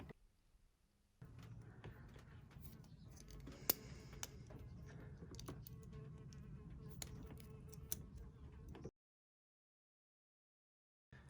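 A bee visits while electrical cable is being wired into a plug, giving a steady, fairly quiet insect buzz that runs for about eight seconds with small wavering swells, then cuts off into silence.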